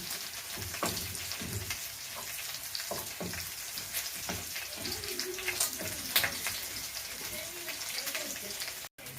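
Garlic sizzles and crackles steadily in hot oil as it fries until brown, with scattered pops and occasional stirring, mostly free of talk.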